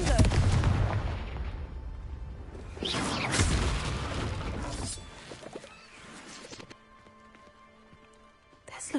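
Confringo blasting spells going off in Hogwarts Legacy: a loud burst at the start and another blast a few seconds later, each trailing into rumbling debris and crackle, fading to quieter game ambience with a sharp hit at the end.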